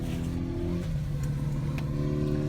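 BMW 335i xDrive pulling away on a drive, heard from inside the car as a steady engine drone with shifting tone, a continuous low hum with faint clicks and no talking.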